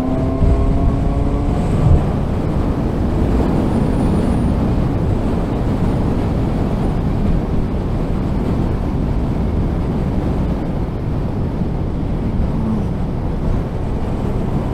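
Motorcycle accelerating on a country road, a loud continuous engine drone with heavy wind rush throughout, steady and close with no talking.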